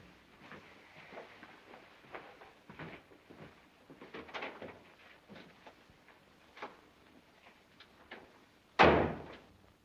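A door shuts with a single sharp thud near the end of a 1937 film scene, following quiet background murmur and faint rustling.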